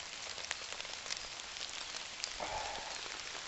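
Heavy rain pours down on a wild camp, a dense, even hiss of drops striking nearby surfaces, with a brief low rumble near the end and no talking.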